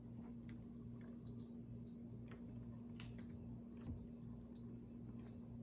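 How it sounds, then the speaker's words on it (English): A multimeter set to continuity test beeps while checking the rear hatch switch of a 2004 Toyota 4Runner, giving three steady high-pitched tones of about half a second each, evenly spaced, over a low electrical hum. "And it is beeping, so the switch is good."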